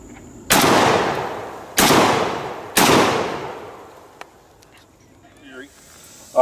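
A ZR Classic Firearms AR-12 12-gauge semi-automatic shotgun fires three loud, close booms, each with a decaying echo, spaced about a second apart, followed by quieter handling sounds.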